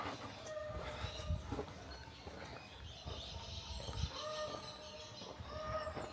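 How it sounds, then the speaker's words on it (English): Birds chirp and call faintly from a distance over a low ambient hum, with occasional soft thumps in the background. "I can hear birdsong in the distance."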